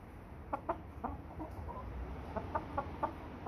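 American Bresse chickens, a dual-purpose breed, give a series of short, distinct clucks in bursts with brief pauses, close and moderately loud over a low outdoor hum.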